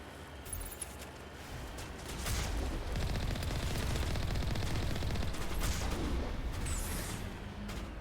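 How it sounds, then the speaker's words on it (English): Enemies firing guns in Mass Effect 1, with a few shots early, then a dense continuous barrage of rapid gunfire and blasts from about two seconds on. "How the hell are they already shooting at me?"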